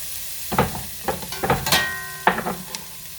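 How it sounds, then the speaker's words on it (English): Chopped celery is added to a hot soup pot for potato soup, giving a few soft thuds and stirring scrapes with short bursts of sizzling, close and without talk. "Next, I'm going to add the celery."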